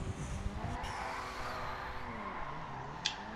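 A car in GTA skids and squeals its tires while drifting on a tuner race track, with continuous screeching and engine noise and a brief sharp knock near the end.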